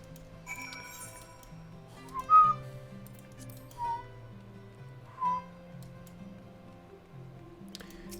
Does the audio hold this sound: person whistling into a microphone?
yes